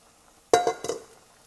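A spoon scrapes and clinks against a stovetop pot of red beans and meat, one sharp knock and then a few quick stirring scrapes, close and alone in a quiet room.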